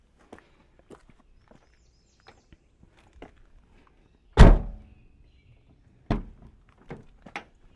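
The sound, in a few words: Mazda Miata car door shutting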